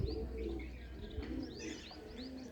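Pigeons coo softly at a distance among scattered chirps from small birds, a steady outdoor chorus with no voices.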